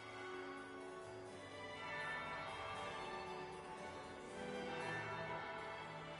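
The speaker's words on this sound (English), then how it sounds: "That would be the second bell." A bell tolls faintly in Dragon Age: Inquisition, a soft, sustained ringing tone that swells twice over a quiet ambient background.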